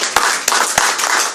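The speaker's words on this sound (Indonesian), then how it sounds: "Tepuk tangan untuk Tuhan." A church congregation claps hands together, a dense burst of applause with a few sharper accented beats, loud and close, lasting just over a second.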